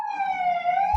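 An emergency siren wails alone, loud and close, in one clear rising and falling tone with strong harmonics, then cuts off sharply.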